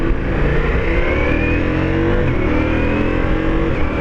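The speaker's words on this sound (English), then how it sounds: "Downshifting with the quick shifter." Ducati Multistrada V4 motorcycle downshifting with its quick shifter, a loud, steady engine roar close up with shifting pitch and rising revs, ridden on a highway, with no talk over it.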